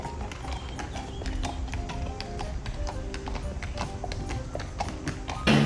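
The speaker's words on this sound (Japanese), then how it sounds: "馬に乗ってる人やってきた" Horse hooves clip-clop steadily on pavement near Milan's Duomo as a mounted rider passes. The strikes are regular and moderately close, with faint street ambience beneath and a brief louder bump at the end.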